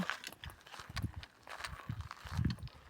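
A horse walks as it is led to its pasture in Brittany, hooves thudding softly in an uneven clip-clop on the ground, fairly faint and outdoors.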